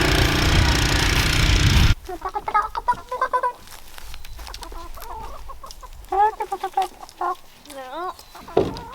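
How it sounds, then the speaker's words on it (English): Chickens cluck close by in short, irregular bursts after a loud rush of noise cuts off, with a low rooster-like call near the end. "Just us chickens."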